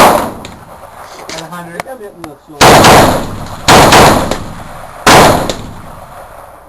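Three loud, sharp gunshots at an outdoor shooting range aimed at a silhouette target, each with a ringing decay, after a brief spoken remark and some faint handling clicks.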